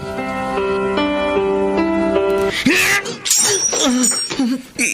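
In a radio drama, sustained music gives way to an empty glass bottle thrown and shattering, a sharp crash midway through. Voices follow right after it.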